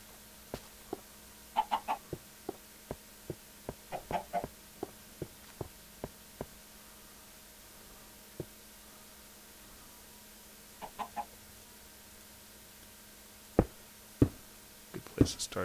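Minecraft chickens cluck in short, sharp clusters of pecking clucks scattered across the scene, with gaps of quiet and a few louder knocking clucks near the end; no talking.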